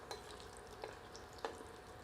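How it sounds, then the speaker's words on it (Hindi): Whole spices frying in desi ghee over medium heat, a faint steady sizzle with a few soft stirring scrapes spaced about half a second apart, no voices. "इन साबुत मसालों को मध्यम आंच पर 1 से 2 मिनट देसी घी में भूनते हैं"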